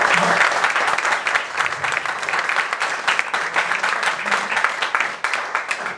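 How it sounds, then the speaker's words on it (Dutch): A hall audience gives a politician's talk a loud, sustained round of applause. Many individual claps are audible up close, and the ovation stays strong throughout. "Ik wil u graag een applaus geven van de zaal."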